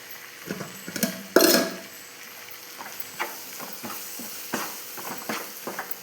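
A pickle masala mixture frying in a pan, with a soft continuous sizzle broken by repeated clattering stirs and scrapes, one loud knock early on, no talking.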